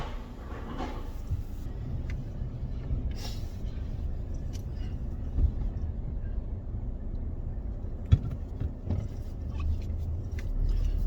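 An Alfa Romeo 159 that spent time submerged, driven outdoors, gives a steady low engine and road rumble throughout with a few brief knocks and clunks on top.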